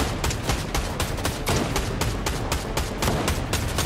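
An Enforcer AR assault rifle fires in a video game: steady, rapid automatic shots in a continuous, evenly spaced stream, loud and close throughout, with no talking over it.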